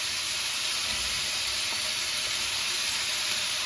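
Carrots and zucchini sizzle in a stir-fry pan alongside beef, peppers and onions, giving a steady, close, bright frying hiss that holds evenly throughout with no talking.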